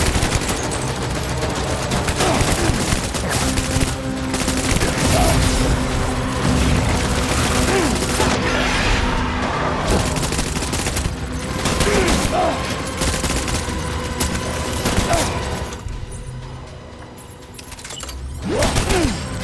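Dense video game gunfire from a boss battle in Death Stranding, with loud sustained bursts and fusillades layered over a continuous roar of rumble and effects, and brief voices mixed in.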